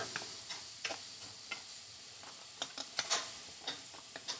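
Sausage sizzles and crackles as it cooks in a pan, a soft steady fry hiss scattered with brief pops and occasional utensil scrapes, with no talking.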